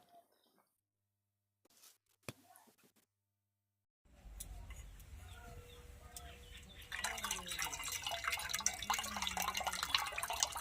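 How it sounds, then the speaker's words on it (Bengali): Cold water being poured for making rasmalai, a few faint drips at first, then a steady trickle that swells into a louder splashing pour. "একটু সাদা জল দেব ঠান্ডা জল"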